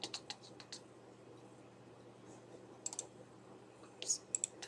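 A few sharp computer mouse clicks, quiet and close, come in short bursts over a low steady hum as someone works through a database project on a PC.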